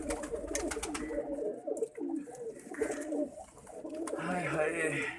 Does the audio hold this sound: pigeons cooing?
yes